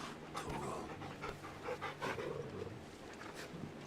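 The dog Torgal pants in Final Fantasy XVI, with soft, rhythmic quick breaths repeating steadily at close range and faint game ambience behind, no voices.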